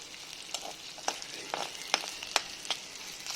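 Chicken pieces frying in their own rendered fat give a steady close sizzle with scattered sharp pops and crackles spread through the few seconds, with no talking.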